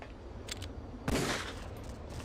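A stock handgun gunshot effect in a Metal Gear Solid game: one sharp, loud crack with a short tail, plus fainter earlier pops against quiet background.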